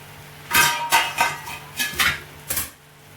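A metal lid comes off a cooking pot as pachadi is made from narthangai citron, giving several sharp clanks and scrapes of metal on metal close by, in quick irregular bursts with short pauses between them.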